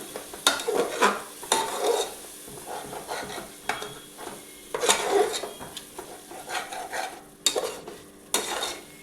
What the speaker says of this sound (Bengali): মশলাটা খুব ভালো করে কষাবো